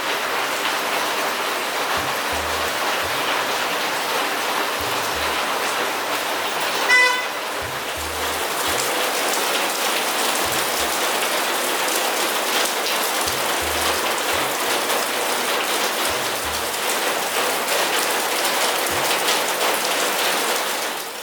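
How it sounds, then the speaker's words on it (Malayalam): Heavy rain pours steadily in a continuous dense hiss on surfaces, with occasional low engine hum and a brief horn toot in the background. "നല്ല മഴയുണ്ടായിരുന്നു, കാലത്തോട്ടേ മഴയായിരുന്നു"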